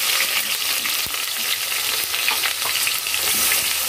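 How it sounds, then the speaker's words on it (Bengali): Onions fry in hot oil with whole garam masala spices, a dense, loud, continuous sizzle heard up close, with occasional light stirring scrapes and clicks in the pan and no voices. "পেঁয়াজগুলো ভালো করে ভেজে নেব"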